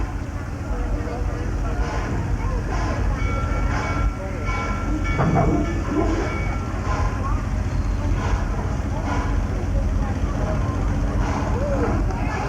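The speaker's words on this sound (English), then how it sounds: "I'd like to welcome everyone aboard the Busch Gardens Transbelt Railroad." The Busch Gardens Transbelt Railroad train pulls out of a theme park station with a steady rumble and rhythmic rail clatter throughout, while people talk over it.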